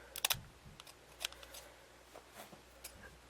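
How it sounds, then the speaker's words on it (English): Scissors snipping along a clothing seam, a few quiet crisp cuts near the start followed by faint scattered fabric rustles and snips in a hushed room. "I'm going to cut right up this seam on either side of the seam, right up to the top"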